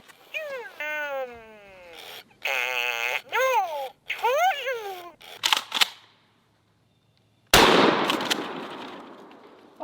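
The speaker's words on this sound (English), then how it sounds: "could I take out this Furby through the wall with the Remington 887?" A Remington 887 shotgun fires through a wall at a Furby toy: a single loud, sharp blast with a decaying roar, preceded by warbling electronic toy chatter and a brief lull.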